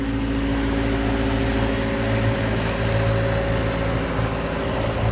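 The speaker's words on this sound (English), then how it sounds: "Try and get away from this engine noise." A boat engine runs steadily at close range while cruising on the Norfolk Broads, a loud continuous drone with a constant low hum from start to finish.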